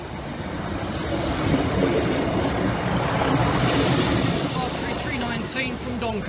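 A train from Doncaster pulls into a station platform at night, a loud continuous rumble and rolling wheel noise filling the scene with a brief high squeal near the end.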